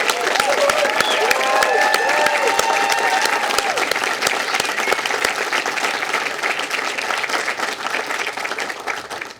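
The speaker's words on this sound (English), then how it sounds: "please join me in another round of applause for the extraordinary graduates of Washington College" Sustained, dense applause from a large outdoor crowd at a Washington College commencement honoring graduates, with some cheers and whoops rising early before the clapping gradually thins.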